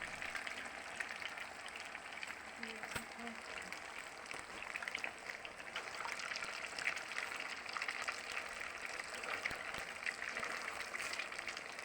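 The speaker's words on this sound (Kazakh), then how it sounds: "Өте қатты ысып тұрған, қызып тұрған сұйық майға салып қуырып аламыз." Fish cutlets fry in very hot oil, giving a faint, steady crackling sizzle that carries on evenly throughout, with a little background murmur.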